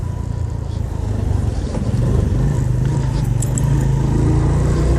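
A Suzuki GS150 SE motorcycle engine with a misfire runs close and loud, a rough steady drone with slight unevenness, rising a little partway through.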